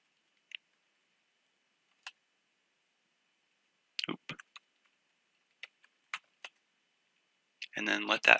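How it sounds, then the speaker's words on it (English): Sparse, light key clicks of a password being typed on a computer keyboard, a few isolated taps and a short cluster, quiet and close, ending in a brief noisy burst. "and then just type in your password"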